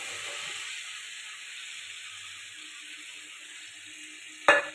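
Fried potatoes meet hot spice masala in a pan, giving a continuous airy hiss and sizzle that fades slightly over time, ending in one sharp clatter of a spoon or pan.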